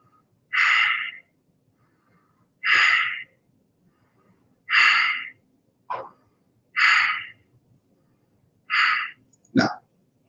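Slow, steady breaths while holding a yoga standing pose, arms extended with elbows straight: about five clear, evenly spaced airy exhalations roughly two seconds apart, close and fairly loud, ending with a quick sharper intake.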